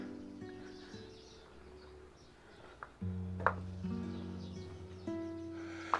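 Scattered bird chirps and twitters sound at a moderate distance over a low, steady hum at a monastery in Cyprus, with a few sharper calls near the middle and end.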